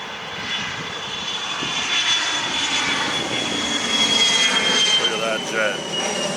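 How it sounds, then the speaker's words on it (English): Delta Boeing 757 jet engines roar steadily at takeoff, a loud, broad, sustained rumble with a high whine running through it, holding constant throughout with faint voices underneath. "These huge, powerful engines, he's going to lift off real fast."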